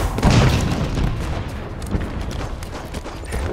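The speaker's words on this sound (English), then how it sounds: "Throwing a grenade." A grenade blast in an online shooter game, a deep booming burst that rolls into sustained rumbling battlefield noise with scattered distant gunfire crackles.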